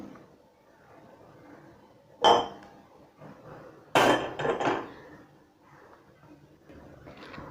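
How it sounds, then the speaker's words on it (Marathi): A cooking pot is set down on a gas stove while chicken liver fry is prepared, giving two close metallic clanks, a sharp one and then a louder rattling cluster, over quiet kitchen background with no talking. "आपण आता गॅसवरती भांडं ठेवलं आहे"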